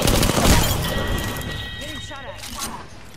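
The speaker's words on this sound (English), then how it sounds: "Wait, what was that? Oh, arc star." An arc star grenade detonates in Apex Legends with a short, loud crackling burst at the start, then fades into a quieter game background while a voice talks.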